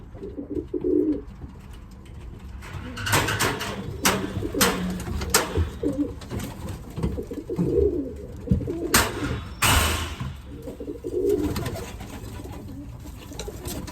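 Newly acquired pigeons, imported Hughes badges and blues, coo in low repeated throaty phrases from a loft, close by, with rustling, wing flaps and sharp bumps scattered throughout.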